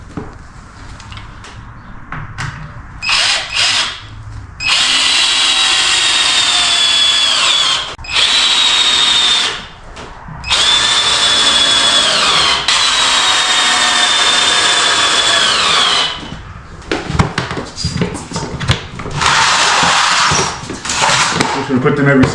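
A power drill drives deck screws into cabin framing in several loud, close bursts of whirring, separated by short pauses and handling noise.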